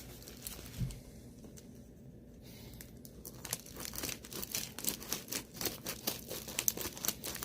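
A package being cut open: crinkling and tearing of wrapping, faint at first and then a denser run of close rustles, crackles and rips, with no talk.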